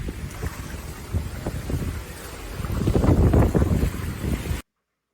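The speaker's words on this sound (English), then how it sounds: "Don't like the wind." Steady outdoor wind rushing and buffeting the microphone, swelling louder toward the middle, with gusty low rumble and no talking.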